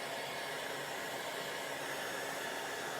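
A hair dryer blows steadily onto a freshly painted surface, a loud, even, continuous whoosh of air held close for the whole stretch, with no voices.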